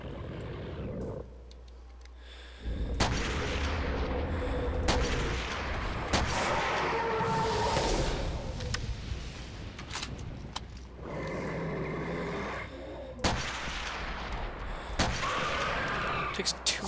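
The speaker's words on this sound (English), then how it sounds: "Shots." Gunfire in a Custom Zombies video game map set on a baseball field, heard as loud repeated blasts and bursts of shots across the clip, mixed with other game noise.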